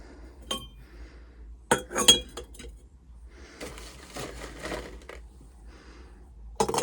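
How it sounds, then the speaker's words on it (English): Cranberries drop into glass jars for canning, producing scattered bright clinks and rattles, a few sharp clusters of small fruit hitting glass with quiet pauses between. "So in each jar I'm going to put about 60 grams of cranberries"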